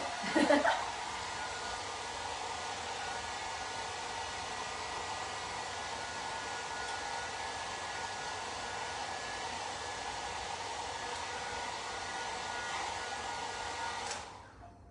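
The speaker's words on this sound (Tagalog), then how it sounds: "So, ayan, mag-blower ako." A hair dryer blows steadily with a broad, even whoosh and a faint motor whine for about fourteen seconds, then shuts off near the end.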